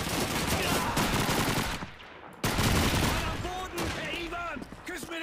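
Dense gunfire from the World War II shooter Call of Duty 2 crackles loudly and continuously, breaks off briefly, then resumes, with a voice talking over the later part.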